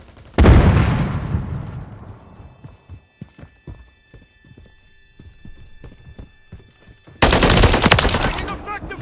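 Gunfire in the video game Call of Duty, a loud burst at the start that decays into scattered sharp shots and clattering, then a heavy, dense eruption of fire near the end.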